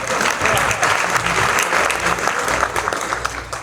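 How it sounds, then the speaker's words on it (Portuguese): A church congregation applauding a brother at a women's mission service, dense, loud clapping sustained throughout and fading slightly near the end. "Ó, vamos aplaudir o irmão."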